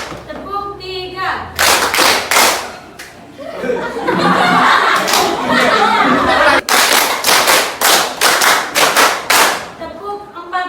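Students in a high school classroom clapping in unison during a clapping game: short bursts of sharp group claps separated by a noisy patch of laughter and chatter, then a longer rapid run of claps, with a voice speaking at the start.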